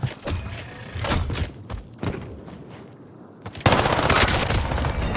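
Video game shootout with rapid bursts of gunfire and thuds in a multiplayer match, loud and dense, with a sharp heavy burst near the end.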